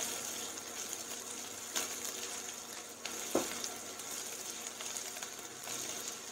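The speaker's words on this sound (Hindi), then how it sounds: "अदरक का कच्चापन निकल जाए, ज़्यादा नहीं हमको पकाना है, अदरक का हल्का सा" Ginger cooks lightly in a pan with a soft, even sizzle. A few brief utensil clinks and scrapes punctuate it, and there is no speech.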